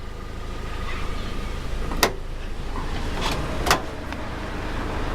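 Rear door of a Toyota Land Cruiser Prado being opened, with a couple of sharp latch clunks and a softer thud over a steady background hum, fairly close, no talking.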